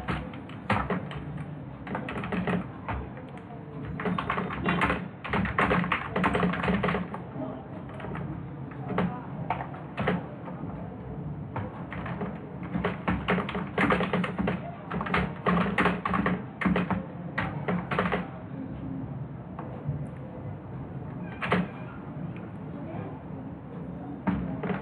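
Program code for an if-else statement is typed on a computer keyboard in rapid bursts of close, crisp key clicks with short pauses, and a voice talks at times.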